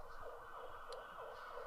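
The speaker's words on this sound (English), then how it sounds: "Now you can hear the sirens." Police sirens wailing in a continuous rising and falling pattern during an attack on Falun Gong practitioners in Vietnam, steady and fairly distant, with no talk over them.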